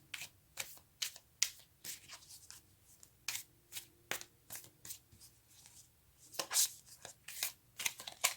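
Tarot cards are shuffled by hand in a quiet room, a series of soft, quick riffling and slapping bursts spaced irregularly, close and faint, with no voices.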